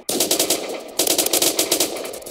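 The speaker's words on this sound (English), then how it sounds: "I'm getting shot at." Rapid automatic gunfire from the Roblox shooter game Phantom Forces crackles in a loud, close burst, pauses briefly, then resumes as a dense rattling stream.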